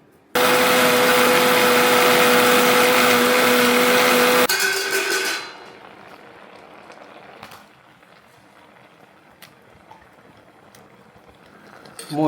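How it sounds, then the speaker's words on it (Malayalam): A mixer grinder runs loud and steady for about four seconds, grinding a coconut and cumin paste with a splash of added water, then stops sharply, leaving quiet room noise with a few small clicks and faint background sounds. "ഒരു ശകലം കൂടി വെള്ളം ചേർത്തിട്ട് ഒന്നും കൂടി അരയ്ക്കാം."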